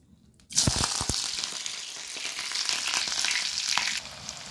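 Onions drop into hot oil after a near-silent moment, bursting into a loud crackling fry that settles into a steady, close sizzle.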